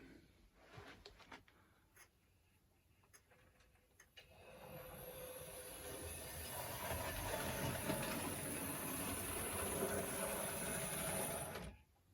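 A Wrenn blue streamlined A4 Pacific OO scale model locomotive starts after a few quiet clicks and runs on track with a steady motor whir and rolling hum for several seconds, then stops abruptly.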